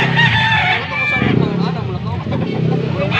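A rooster crows loudly and close by, its drawn-out call rising over nearby voices talking at the same time.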